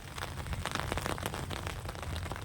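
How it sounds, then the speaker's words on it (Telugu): Soft, steady patter of rain falling on a surface, with scattered drips and light crackling throughout. "చూడండి వర్షం కురుస్తోంది"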